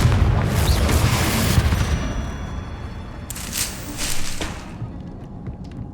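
Confringo fire spell blast in Hogwarts Legacy, a loud booming burst that rumbles and fades, followed by a second fainter crackling impact and a lingering low rumble.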